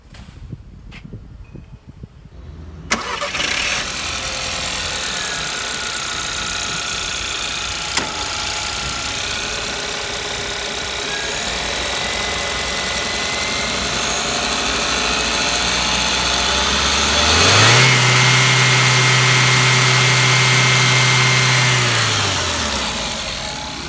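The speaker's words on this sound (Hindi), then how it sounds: "ये थी शानदार TSI पेट्रोल इंजन की साउंड।" A 2018 Volkswagen Polo Mk5 GT TSI turbocharged petrol engine idles steadily, then revs up once to a sustained higher pitch before dropping back, heard close and alone without talk.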